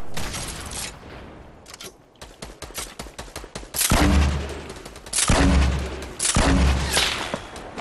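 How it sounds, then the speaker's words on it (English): Rapid gunfire and sniper shots in the video game Fortnite, a dense burst of quick cracks followed by several loud, heavy booming blasts about a second apart, close and loud with no talking. "I'm getting sniped from the back."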